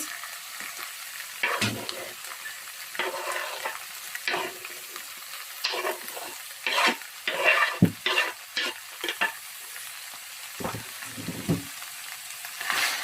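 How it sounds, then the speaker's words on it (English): Onions fry in a pan for egusi soup, with intermittent scraping stir strokes and soft sizzling between quieter pauses. "So I'm going to add the onions."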